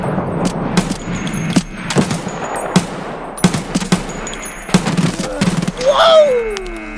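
Rapid bursts of automatic gunfire from Escape from Tarkov crackle close and loud in repeated volleys, with players talking over the shooting and a brief descending tone near the end.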